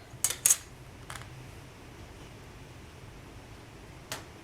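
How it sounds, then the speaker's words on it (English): A blade chops through a polymer clay checkerboard cane, cutting it in half: a few sharp, faint clicks and taps near the start, a lighter tap just after, and one more knock near the end against a quiet background. "Now what I want to chop this in two and stack it actually."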